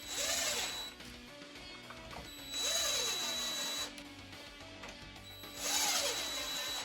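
A power drill or driver runs screws into an RC car center differential on a DBXL-E 2.0, in three whirring bursts that spin up and wind down, close and fairly loud, with mechanical clicks between them.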